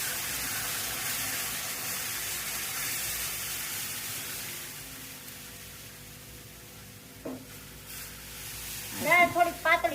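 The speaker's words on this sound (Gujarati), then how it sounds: "ટમેટા ચડી ગયા છે એટલે આપણે દાળ નાખી દઈએ" Dal poured into a pot of cooked tomatoes gives a steady hissing simmer and sizzle that gradually quiets, followed by a few brief clinks near the end.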